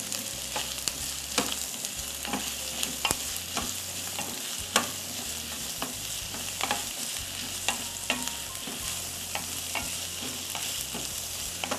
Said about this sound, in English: To this, we'll add 3 to 4 cloves of chopped garlic. And we'll keep sauteing.